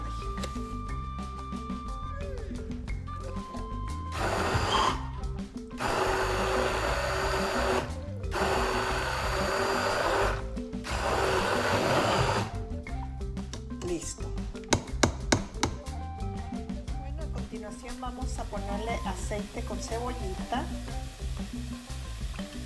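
A kitchen blender grinds chiles with tomato for a chicharrón salsa, a steady loud whirring motor that runs in long stretches with brief pauses, followed by clattering and handling noises near the end.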